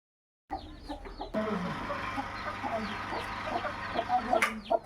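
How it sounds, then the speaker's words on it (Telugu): A hen clucks in soft, repeated, close bursts, with faint farmyard background noise around it. "ఇదిగండి ఈ గుడ్డుని పెట్టిన కోడి అండి ఇది."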